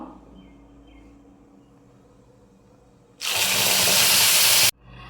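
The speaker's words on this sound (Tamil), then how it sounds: "இப்போ நான் அரைச்சி வச்ச தக்காளி பேஸ்ட்டை நம்ம பானியில் சேர்த்துடுவோம்." A sudden loud sizzle erupts as ground tomato paste hits hot oil with popped mustard seeds in a pan, hissing strongly for about a second and a half before cutting off.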